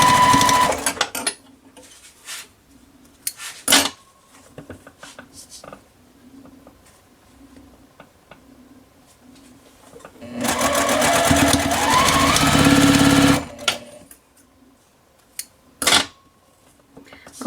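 A sewing machine stitching quilt block pieces, one steady whirring run of several seconds in the middle, with scattered clicks and handling noises before and after.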